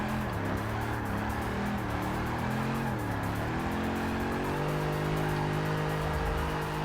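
A supercharged Dodge Challenger Hellcat drifts sideways in a racing video game, its engine roaring loud and steady with rising and falling revs under continuous tire squeal and noise.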